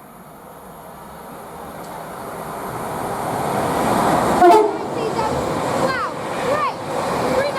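Class 390 Pendolino unit 390.040 on a Manchester Piccadilly to London Euston service passes at Rugby on the West Coast Main Line, a rising rumble and rush that builds to a peak with a brief horn-like tone, while people exclaim over it.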